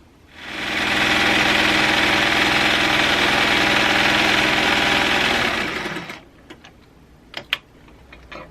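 A sewing machine runs in one continuous fast burst while stitching a tie-dyed fabric mask, a steady mechanical whir lasting about five seconds, then stopping, followed by a few light handling clicks and taps.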